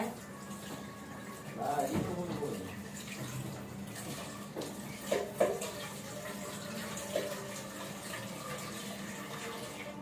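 Water runs steadily into a pot at home, a continuous splashing flow with a few clunks of the pot, while people talk over it.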